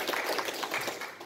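A church congregation claps during a Sunday evening service, a brief burst of scattered, fairly close applause lasting just over a second.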